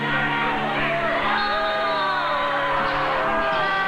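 A crowd of parents and spectators at a high school wrestling match near Spokane, Washington, cheering, whooping and yelling continuously, loud and close, with layered overlapping voices.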